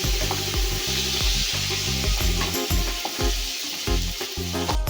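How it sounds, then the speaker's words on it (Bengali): Shrimp fry in hot mustard oil with a continuous bright sizzle and crackle, while rhythmic background music plays underneath. "চিংড়ি মাছগুলোকে খুব ভালোভাবে ভেজে নিয়েছি"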